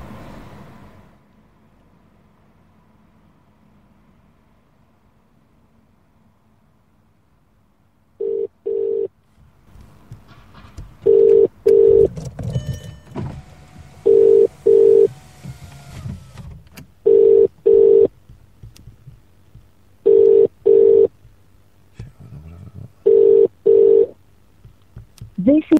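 A telephone line gives a repeated ringing tone while a call is being placed: loud paired beeps recurring at regular intervals after a quiet, noisy start, with faint background rumble between them.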